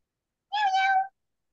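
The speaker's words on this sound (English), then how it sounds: "She saw a small kitten like Mickey." A small kitten gives a single clear meow, about half a second long, with a rising-then-falling tone, close and alone against silence.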